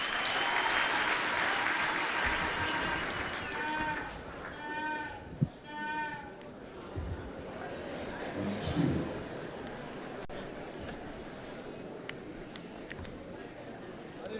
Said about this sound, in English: Let's give the choir another big round of applause,